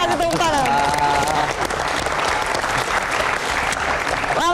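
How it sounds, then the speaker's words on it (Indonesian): A television studio crowd breaks into loud, sustained applause, steady for several seconds with voices mixed in. "Kita kasih tepuk tangan."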